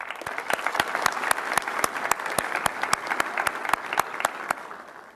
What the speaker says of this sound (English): the family and friends deserve a round of applause as well